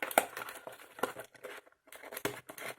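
Close, crinkly tearing and crackling as adhesive tape is pulled away in short bursts, with brief quiet gaps between pulls.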